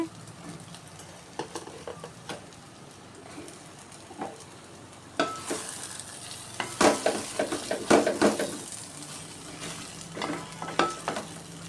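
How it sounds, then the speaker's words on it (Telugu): Bottle gourd pieces simmering in a fish curry pan, with soft sizzling and intermittent stirring clatters that grow busier and louder halfway through, close by and without talk. "ఆనకాయ ముక్కలు సొరకాయ ముక్కలు వేసేస్తున్నాను నేను సొరకాయ ముక్కలు కూడా దీనిలో మగ్గనివ్వాలండి"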